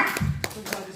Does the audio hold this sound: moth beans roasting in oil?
no